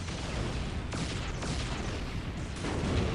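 Heavy lascannon fire and explosions in a Dawn of War Ultimate Apocalypse battle, with Imperial Guard, Chaos and Orks fighting Necrons: a dense, continuous roar of blasts and booms with a few sharper cracks, loud throughout.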